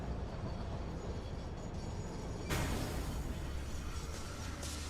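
Heavy train in the factory-building video game Satisfactory rumbles as a broad, steady roar, with a sharp jump in loudness and brightness midway, then continuing at an even level without voices.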